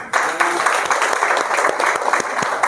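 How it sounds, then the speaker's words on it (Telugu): An audience claps together at a seminar-style event, a dense, lively burst of applause with sharp individual claps, fairly close and sustained throughout. "మీ అందరికీ ఒకసారి క్లాప్ పెట్టుకోండి"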